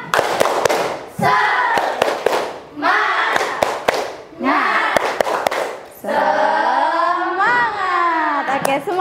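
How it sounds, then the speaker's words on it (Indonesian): Children do a rhythmic spirit clap (tepuk semangat) in a classroom, with sharp patterned bursts of claps between chanted group voices, then a teacher's voice speaks near the end. "Yuk kita tepuk semangat dulu."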